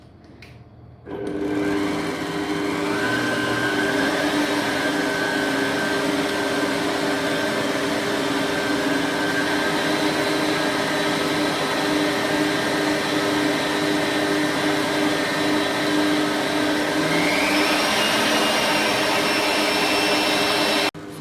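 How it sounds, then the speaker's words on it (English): An electric hand whisk beats cake mixture for a Fraisier cake sponge to the ribbon stage, a loud, steady motor whir that starts after about a second and runs unbroken, with no talking. "now you're gonna whisk this till it's like a ribbon stage"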